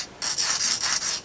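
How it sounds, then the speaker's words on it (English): A 1000 grit knife-sharpening stone rubs against the end of a small watch shaft, giving a dry abrasive scraping in several close, even back-and-forth strokes with brief gaps between them. "this is a knife sharpener. That's a 1000 grit."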